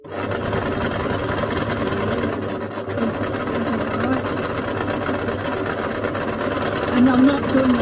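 Sewing machine stitching a zigzag line across handmade paper journal pages, a steady close motor whir with fast rhythmic needle chatter running continuously, a voice briefly talking over it.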